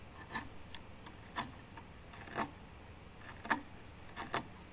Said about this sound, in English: I'm just going to use this gouge and kind of make it look nice and pretty and clean off the saw marks.